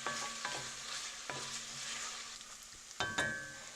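Bacon frying in a pan as fat renders ahead of sautéing wild leeks for soup, a steady close sizzle broken by a few sharp stirring scrapes and clatters.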